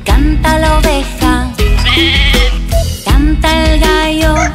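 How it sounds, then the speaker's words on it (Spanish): A sheep bleats loudly in a cheerful children's farm song, with several wavering baa calls repeating over music with a strong beat and no spoken words. "Canta la vaca y canta la oveja."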